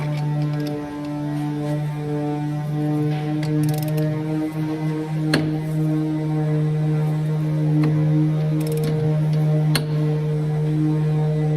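Close up, a ratchet clicks in short bursts as a timing belt pulley on a car engine is tightened, over a steady mechanical hum with a few sharper metallic knocks.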